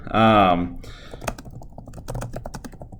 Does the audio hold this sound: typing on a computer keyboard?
yes